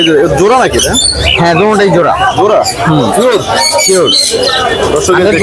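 Tame lovebirds squawking at a busy market, loud harsh calls repeating over continuous overlapping conversation from nearby people.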